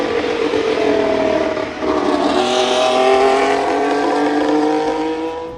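A Red Bull 2026 Formula 1 car running on sustainable fuel howls on a racetrack during testing, a loud continuous high-pitched engine note climbing and shifting through gears, with no talk.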